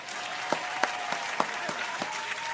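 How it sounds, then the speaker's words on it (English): Audience applause breaks out for mail call, a steady wash of clapping with a few sharper individual claps standing out at a regular pulse through the short burst. "Round of applause to mail call."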